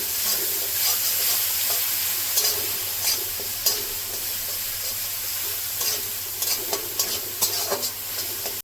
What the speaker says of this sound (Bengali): দিয়ে দেবো টক দই, মিশিয়ে নেব মশলাটা।